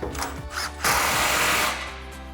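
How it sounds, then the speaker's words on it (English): An impact wrench with a 15mm socket tightens the front exhaust clamp on a Ford F-150 dual exhaust install, giving short whirring bursts followed by a loud sustained rattling run of about a second, close by. "grab our impact and 15mm socket, tighten down our front clamp here"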